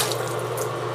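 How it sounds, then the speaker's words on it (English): Water flows from a bathroom tap as someone rinses their hands, a steady rushing splash close by with no talking, lasting only a moment. "I'm going to rinse my hands off"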